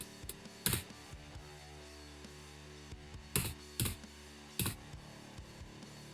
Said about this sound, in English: you type in yay and then enter.